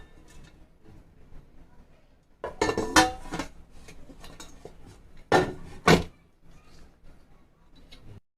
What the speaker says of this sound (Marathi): आता मी हे एका प्लेटमध्ये काढून घेते.